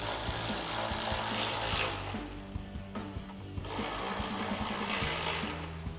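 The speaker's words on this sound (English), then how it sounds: "Grab our ratchet and socket and tighten them down." A ratchet and socket tighten 10mm bolts while mounting a black grille guard on a 2016-2023 Toyota Tacoma, giving a close, steady run of rapid mechanical clicking over a constant hum, with no talking.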